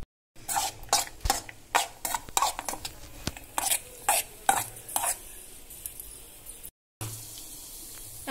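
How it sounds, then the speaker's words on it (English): Ghee stirred in a vessel for wheat flour halwa, a quick series of close scraping and clinking spoon strokes against the pot over a soft sizzle, slowing toward the end before a brief cut. "Add some ghee to the vessel and then stir it."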